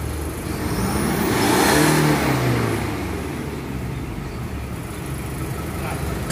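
A Toyota Fortuner diesel engine with sluggish acceleration and black smoke revs up to a peak and settles back to a rough, steady drone during a smoke-opacity test in a workshop.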